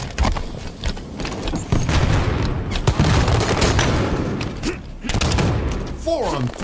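Dense gunfire and explosive booms from a Halo 5 Guardians beta Breakout match, with a grenade blast among continuous loud shots and thuds, and game voice announcements over the battle.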